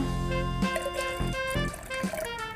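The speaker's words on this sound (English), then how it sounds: "So we're gonna add just a tiny bit more water." Water poured into an asam drink mixture in a kitchen, a close, continuous trickle and splash with gurgling pulses and small clinks.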